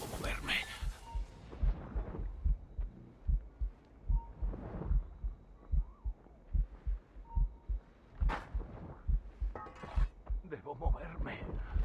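In the Assassin's Creed Rogue video game, a slowing heartbeat effect from poison thumps in heavy low pulses, loud and close, with irregular spacing and rumbling game sounds between beats.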